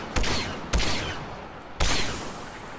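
Gunfire from a Star Wars shooter game: three sharp, loud blaster shots, two close together and a third after a pause, each with a short ringing decay.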